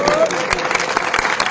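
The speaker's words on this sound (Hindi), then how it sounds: "राम दरस यादव जी खातिर की जोरदार ताली हो" Applause at a crowded outdoor political rally in Azamgarh, India, a dense burst of clapping lasting the whole moment under a loud announcer's voice.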